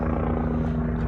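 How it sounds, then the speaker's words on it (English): A helicopter passes overhead near Van Nuys Airport beside a park, its steady low rotor thump and engine drone loud and continuous throughout. "Helicopter."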